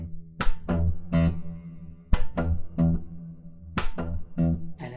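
Guitar notes on an electric guitar with a distorted tone, played in repeated phrases with sharp thumb slaps and muted upstroke clicks, close and clear, with no voices.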